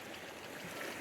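A high-flowing, slightly coloured river in New Zealand rushes in a dense, steady roar of moving water, close and continuous with no voices.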